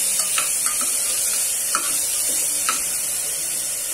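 Tomatoes sautéing in a pan for a cooker sambar give off a steady close sizzle, punctuated by a few light clicks from stirring, with no talking.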